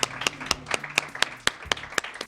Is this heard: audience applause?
yes